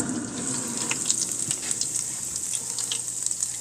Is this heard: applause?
no